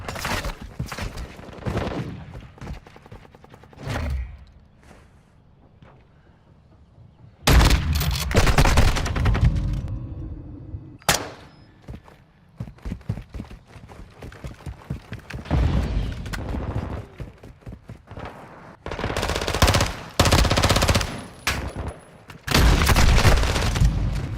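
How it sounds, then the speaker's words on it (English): Heavy bursts of machine gun fire and scattered gunshots during a combat firefight, loud and sustained, alternating with quieter gaps and occasional booms, with faint radio-style talk in between. "Taking effective fire."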